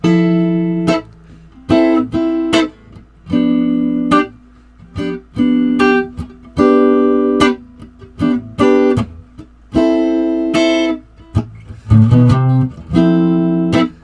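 An electric guitar strums verse chords in short rhythmic bursts, with brief walk-up notes between them.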